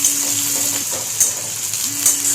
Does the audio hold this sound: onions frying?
yes